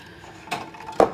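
Metal wire cooling racks in a home kitchen clatter twice, each a brief light metallic clank, the second louder, with quiet in between.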